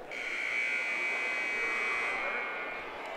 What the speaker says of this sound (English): Coming up, the buzzer goes.